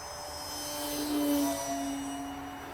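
An E-Flite S.E.5a electric RC warbird biplane drones steadily overhead, a continuous whining buzz that swells slightly as it passes at middle distance, with no talking.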